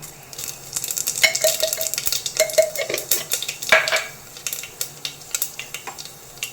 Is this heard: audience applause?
no